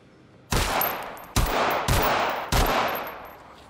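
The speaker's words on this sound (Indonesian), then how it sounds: "Saat itulah Wagner menembak kepalanya Ophelia" Four loud, sharp gunshots in a film scene, fired at uneven intervals, each leaving a short ringing decay, close and with no talk.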